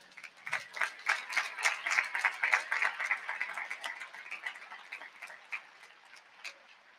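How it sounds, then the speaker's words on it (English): A university commencement crowd gives a round of applause for graduates, with distinct, sharp claps building to a moderate patter, then thinning to scattered hand claps that fade out. "I think another round of applause is merited."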